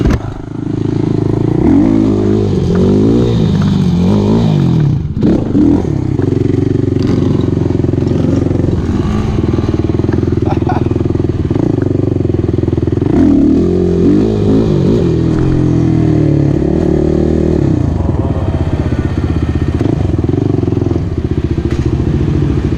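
Honda CT70 mini motorcycle engine revving hard and continuously during wheelies, close and loud, with the pitch rising and falling as the throttle opens and backs off.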